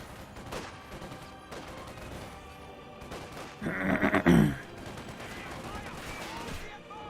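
MG34 machine gun fire in the Company of Heroes 2 strategy game, a dense rattling burst in the middle of a busy battle soundscape with scattered shots and rumbles, and a commentator talking throughout.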